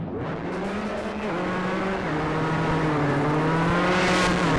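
A rally car in Richard Burns Rally oversteers under throttle and brake, its engine revving hard and steadily with slight pitch dips and rises, loud and close, with faint tire noise and no talk.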